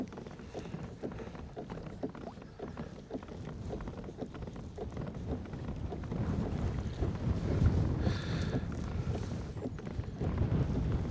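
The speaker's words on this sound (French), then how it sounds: "il a commencé à avoir une petite brise, puis là, c'est un bon vent soutenu." A steady wind blows over a lake around a kayak, a constant gusty rush and buffeting, with light water slaps and knocks against the hull, mid-level and unbroken, with no voices.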